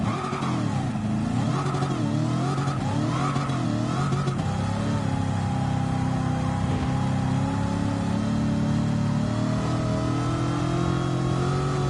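A supercharged car engine in a racing video game revs and holds a loud, continuous drone, its pitch wavering early on before settling into a steady high whine throughout.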